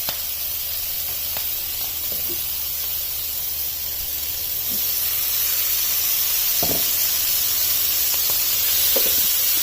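Chicken goes into a hot pan of vegetables for chicken jalfrezi, and a steady hiss and sizzle rise and grow louder partway through, with a few faint clicks and scrapes and no talk.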